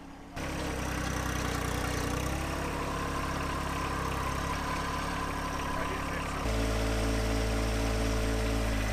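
A compact tractor engine idles close by in a steady, even putter, stepping briefly to a slightly different pitch partway through before settling back into a constant rumble with no voices.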